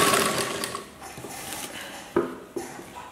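A domestic sewing machine stitching a chudithar top runs in a short quiet whir that fades, followed by a couple of sharp clicks of handling the fabric and machine, with no talking.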